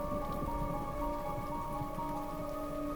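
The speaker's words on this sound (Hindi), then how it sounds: "बाहर तेज बारिश हो रही होती है" Heavy rain pours steadily outside, a dense continuous hiss of drops on surfaces with a low steady hum beneath it and no voices.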